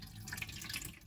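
Orange water poured through a strainer, a short, faint burst of splashing, trickling liquid with a few drips.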